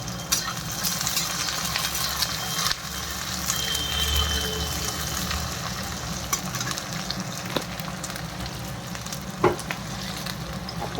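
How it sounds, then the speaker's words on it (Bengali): Onions frying in a pan for Chinese noodles give a steady, close crackling sizzle throughout, broken by occasional stirring scrapes and taps, with no voices. "পেঁয়াজটা একটু লাল লাল করে দেখাতে হবে।"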